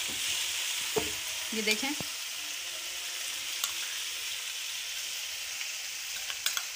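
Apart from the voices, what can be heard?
garlic ginger paste frying and sizzling in a pan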